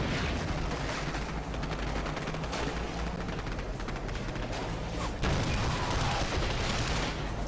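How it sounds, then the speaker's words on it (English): Troops firing at will in the WWII tactics game Graviteam: Fateful Strike, a steady, dense rattle of distant massed gunfire and rumbling battle noise continuing throughout, with a brief louder surge near the end. "Let's have them all fire at will now."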